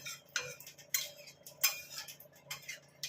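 A spoon scrapes and clinks against a pan while jalpai (olive) dal is stirred, a few separate bright metallic scrapes and taps at an uneven pace, close by, with a low steady hum underneath.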